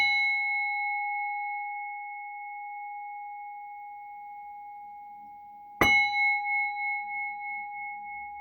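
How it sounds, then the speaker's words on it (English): Tibetan bell struck once: a steady pure ringing tone sustains and slowly fades, then a second sharp strike brings a fresh ring with a pulsing, wavering decay, quiet and alone. "I'm going to start off with a Tibetan bell just to clear the energy."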